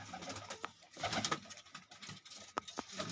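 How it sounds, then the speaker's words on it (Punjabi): Soft, repeated pigeon coos close by, a few low throaty calls spaced irregularly, with faint background noise and no talking. "ਇਹ ਬਾਈ ਬਿੰਦਰ ਵਾਲਿਆਂ ਕਬੂਤਰਾਂ ਚੋਂ ਆ"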